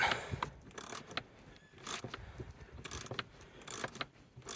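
A 12mm spanner turns the handbrake adjuster on a 2004 Hyundai Elantra with a broken cable, giving close metallic clicks, ratcheting and small clanks in short irregular bursts.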